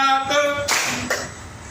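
During a school coaching session, a group claps a rhythmic pattern, with two sharp, close claps following a brief voice at the start.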